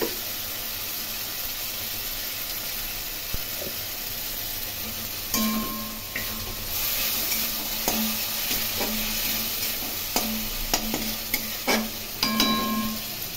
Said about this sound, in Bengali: শুকনো লঙ্কা, কাঁচা লঙ্কা, রসুন, পেঁয়াজ, আদা, সে পেস্ট খানিকটা আমি দিয়ে দিলাম। খুব ভালো করে কষিয়ে নেব।